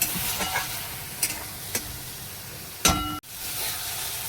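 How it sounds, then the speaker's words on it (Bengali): Spice masala fries in hot oil in a home kitchen with a continuous sizzle, several sharp scrapes and clinks of a stirring spoon, and one louder burst near the end before a sudden drop. "খুব মশলাটা ভালো করে ভেজে নিয়েছি"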